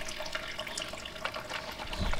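Water flows steadily from the tap of a camping shower rigged outdoors beside a table in a garden, a continuous splashing hiss that swells slightly toward the end.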